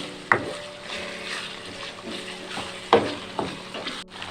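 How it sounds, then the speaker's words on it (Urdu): Minced meat frying with ginger garlic paste in a karahi over a medium flame, a steady close sizzle with a few sharp scrapes and clinks of a stirring spoon. "ساتھ ساتھ قیمہ بھی فرائی ہوتا رہے گا"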